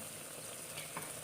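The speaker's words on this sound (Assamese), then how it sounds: "অলপমান মাংসখিনি ভাজি লওঁ" Meat sizzles as it fries and is stirred in a pan, a quiet but steady crackling hiss heard up close without any talking.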